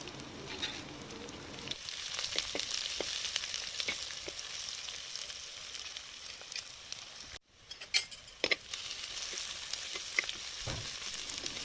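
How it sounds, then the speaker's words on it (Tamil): Onions and garlic sautéing in a pan for a broad bean (mochai kottai) curry give a steady sizzle with scraping stirs and a brief quiet gap partway through; no one speaks. "வெங்காயம் நல்லா வதங்கினதுக்கப்புறம் கொஞ்சமாக பூண்டு சேர்த்து அதையும் நல்லா வதக்கி விட்டுக்கலாம்"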